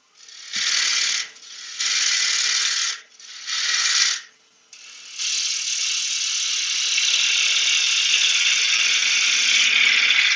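A half-inch bowl gouge cuts a cherry wood bowl spinning on a lathe, loud hissing bursts in three short passes, then one long continuous cut, close and harsh.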